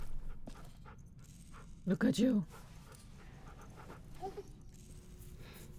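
A dog in the video game The Walking Dead Season 4 pants softly and rhythmically throughout, while a person speaks a few words partway through.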